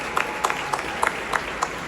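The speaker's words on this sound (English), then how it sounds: "So another round of applause for all our debutants." An awards show audience at Yas Island, Abu Dhabi, claps in a thin, scattered burst of applause, fairly distant and brief, with a few sharper individual claps standing out.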